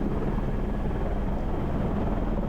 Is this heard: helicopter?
yes